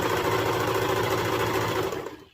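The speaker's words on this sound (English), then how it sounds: "I'm going to just serge or zigzag stitch, like I said, down that entire edge here" Steady, continuous motor hum and rapid rhythmic clatter of a serger or sewing machine zigzag stitching down the edge of fabric shorts, running loud and close for about two seconds before trailing off.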